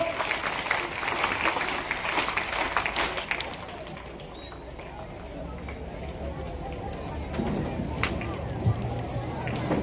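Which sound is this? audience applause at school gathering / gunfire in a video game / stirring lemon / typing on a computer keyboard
audience applause at school gathering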